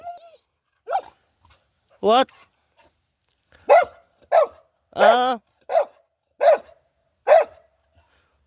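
A farm dog gives a series of short yips and barks, about eight bursts spaced irregularly, fairly close, with a brief human voice near the start.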